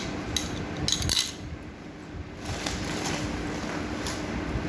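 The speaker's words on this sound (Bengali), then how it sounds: "আর কিছু যে স্টিল স্পুন, স্টিলের চামচ।" Steel spoons clink and rattle against each other, with a few bright strikes early on, then lighter jingling over a low background hum.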